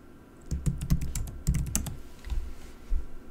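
Fingers typing on a computer keyboard in a quick, irregular burst of close, crisp key clicks, with a short pause and a few final taps, heard alone with no talking.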